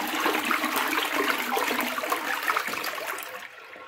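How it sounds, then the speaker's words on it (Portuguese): A toilet flushes loudly and close by, a rushing gush of water that stays full for about three seconds before easing off toward the end, with no talking. "agora eu vou dar descarga"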